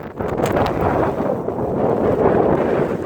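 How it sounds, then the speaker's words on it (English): Strong gusting wind on a snowy Colorado mountain peak buffets the microphone in a continuous loud roar, swelling and easing without any voices. "it's snowing like crazy up here. And gusting, and it hurts."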